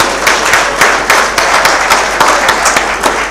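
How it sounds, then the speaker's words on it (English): A crowd at a Victoria Falls winter school gathering gives a round of applause for a speaker, steady clapping from many hands with regular sharp peaks, close and fairly loud, no voices over it. "let's give a big round of applause to Walter Chimene"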